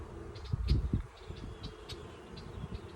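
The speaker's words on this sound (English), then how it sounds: "There's a lot of bees in here." Honey bees buzz inside an opened hive being turned from winter to spring set-up, a low, steady droning hum with a few louder swells as bees pass close. No voices.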